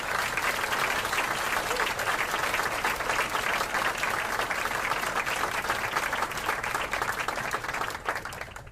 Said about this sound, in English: Can we please give every one of these folks a warm round of applause?